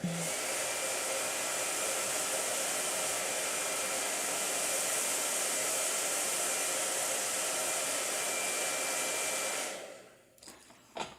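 A hair dryer drying watercolor paint blows with a constant, loud whooshing hum for about ten seconds, then switches off, leaving a few faint clicks.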